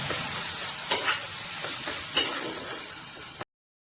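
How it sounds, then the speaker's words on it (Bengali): Onion paste with garlic and ginger paste fries in a pan for a paneer gravy, giving off a steady, close sizzle with a few sharper stirring scrapes, then cutting off abruptly near the end. "পেঁয়াজ বাটাটা হালকা করে হয়ে গেলে রসুন আদা বাটাটাকে দিতে হবে, দিয়ে আরো কিছুক্ষণ ভাজতে হবে।"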